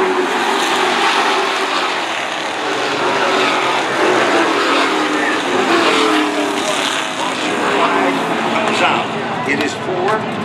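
Race cars roaring around an oval racetrack as car number 9 restarts under caution, a loud continuous engine drone with shifting pitch, under steady announcer commentary.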